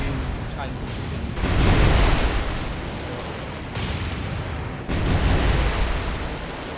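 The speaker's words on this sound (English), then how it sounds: "Fletcher is struck by a torpedo" A torpedo hits the destroyer Fletcher in the naval video game War on the Sea. It comes as heavy, rumbling blasts about two seconds and five seconds in, each one washing into a broad roar like surf.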